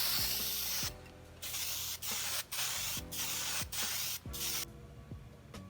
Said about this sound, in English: all of the parts now are going to get a final clear coat